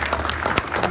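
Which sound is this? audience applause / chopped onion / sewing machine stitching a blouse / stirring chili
audience applause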